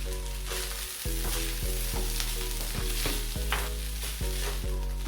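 Ingredients for beef fried rice crackle and sizzle loudly in a pan up close, punctuated by regular scraping stir strokes roughly every half second, with no talking.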